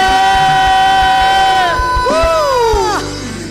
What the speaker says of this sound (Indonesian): Mari kita berikan tepuk tangan yang paling meriah bagi Tuhan Yesus kita